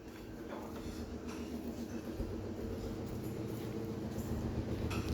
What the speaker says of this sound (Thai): เสียงเครื่องซักผ้าหมุน ปั่นแห้ง